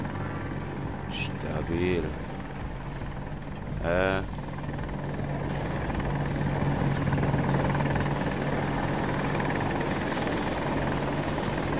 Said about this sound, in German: Oh, ein Heli.